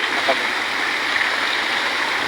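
A steady, close rush of flowing stream water at Balayong in Puerto Princesa fills the whole stretch, loud and continuous with no talking.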